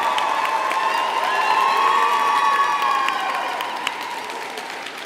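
Sustained applause from a graduation audience in a cathedral, dense and steady for several seconds with some cheering mixed in, gradually thinning toward the end.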